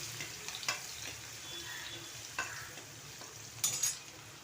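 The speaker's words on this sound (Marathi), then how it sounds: "आता हा आम्ही याच्यामध्ये भाजून देतो तेलामध्ये चांगले नाही फ्राय होऊन द्यायचे मिरची" Green chillies and beans fry in hot oil, a steady soft sizzle with a few brief stirring scrapes, close by and without speech.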